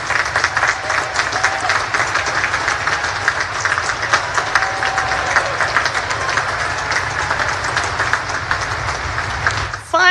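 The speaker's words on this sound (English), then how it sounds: "Please join me in recognizing and applauding these distinguished graduates." An audience applauds Naval Academy graduates with a dense, steady, sustained round of clapping at even loudness that fades only at the very end.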